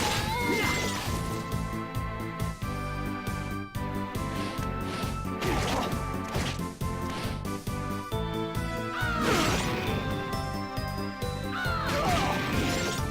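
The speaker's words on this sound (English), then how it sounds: "Those blue crows look surprisingly like a part of the background until they actually attack you" Blue crows in Castlevania: Portrait of Ruin cawing repeatedly over game music, with harsh crow calls and crashing hit effects as they swoop and attack.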